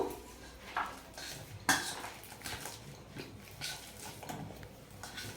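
A banana being mashed for malpua batter, with soft squishing and a few clinks of a utensil against a bowl, faint and irregular with short sharper knocks.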